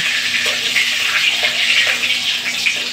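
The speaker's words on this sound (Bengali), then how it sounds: "দুটো শুকনো মরিচ দিয়ে দিলাম কড়াইয়ের মধ্যে।" Two dried red chillies sizzle in hot oil in a kadai, giving a steady, loud, close hiss that holds without pause.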